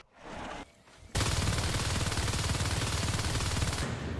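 Sustained automatic gunfire from marines in the game Natural Selection 2, a dense, loud, continuous rattle of rapid shots that kicks in after a brief quieter burst and runs nearly unbroken to the end.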